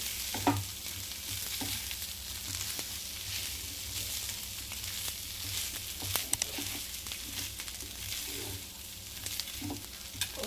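Potato filling for aloo mirchi bajji sizzles in a pan while being mixed, a constant frying hiss broken by scattered spoon scrapes and light taps throughout.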